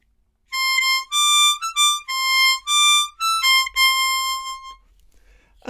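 C diatonic harmonica playing the closing line of a song: a run of clear, bright single notes with short gaps and a small wavering bend, played solo and close.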